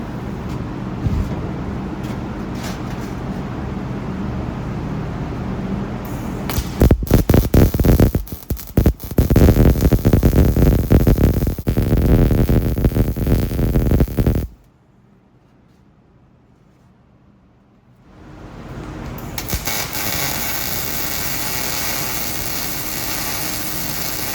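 A YesWelder DP200 welder running a bead, heard as a loud, steady crackle and hiss close by, broken by a silent pause before the sound resumes.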